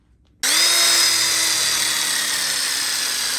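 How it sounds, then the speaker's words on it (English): A power drill starts abruptly and whines steadily at high speed while pre-drilling up through three stacked layers of metal on an outdoor kitchen frame, loud and close with no voices. "we'll go ahead and pre-drill a hole up through the 3 pieces of metal and lock it in with a screw"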